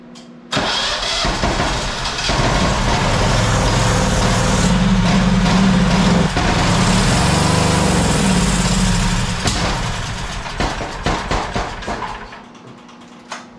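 A Generac generator engine cranks and fires, then runs loud and rough for several seconds before sputtering and dying out with uneven pops, heard close up.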